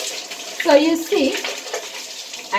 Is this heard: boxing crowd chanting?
no